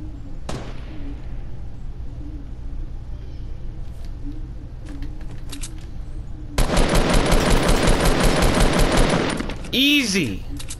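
Triple-burst rifle fire in Fortnite rattles out as a loud, rapid string of shots partway through, preceded by scattered game effects and followed by a brief swooping in-game sound.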